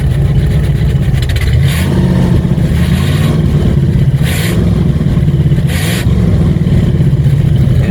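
A 1957 Chevrolet engine with a single exhaust revs loudly and close by, a steady throaty rumble rising in short bursts of throttle over about eight seconds, with a faint clatter underneath.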